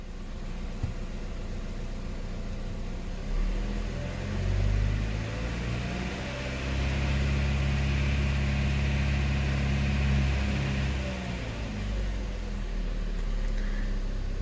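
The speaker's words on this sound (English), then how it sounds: "Now to rev it up at 2000 RPM for 30 seconds" A Chevrolet Sonic engine is held at a steady 2000 RPM during a coolant reservoir job, a low, even mechanical drone with slight swells in pitch, fairly close and moderately loud, with no talking.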